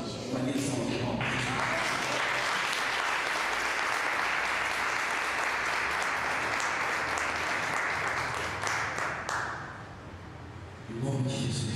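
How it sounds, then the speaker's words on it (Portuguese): Congregation applauding during a Pentecostal-style deliverance church service, loud sustained clapping from many people for about nine seconds, fading near the end as a voice resumes speaking. "Com a minha salva de palmas."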